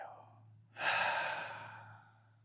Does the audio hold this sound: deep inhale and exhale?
yes